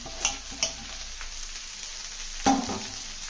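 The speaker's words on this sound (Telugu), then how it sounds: "మనం కట్ చేసి పెట్టుకున్న ఈ తోటకూర ఇవన్నీ వేసేసి కలుపుదాము" Chopped amaranth leaves are frying in a pan after the base turns light brown, giving a soft, steady sizzle under a few sharp spoon taps and a clank, with no talking.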